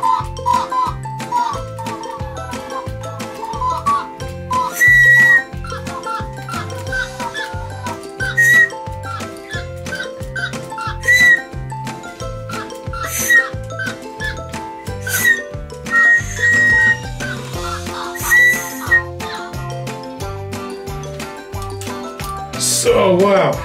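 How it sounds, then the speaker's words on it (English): A Digi Penguins igloo playset toy plays a loud, bouncy electronic melody with a steady beat and chirpy high notes, set off by blowing a toy whistle, running continuously up close. "if you blow your whistle, they are playing different melodies"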